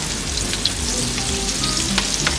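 Prawn toast fries in hot oil, a loud continuous bubbling sizzle with faint intermittent pops and crackles throughout.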